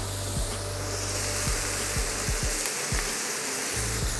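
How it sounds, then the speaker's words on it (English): Sliced chili with its seeds sizzles on a hot griddle pan beside steak for a sandwich. A loud, continuous frying hiss runs throughout, with a few soft knocks and thumps, and no voices. "So I'm just going to slice this as well and get it onto the griddle pan with the seeds in."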